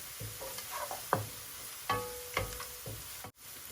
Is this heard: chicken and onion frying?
yes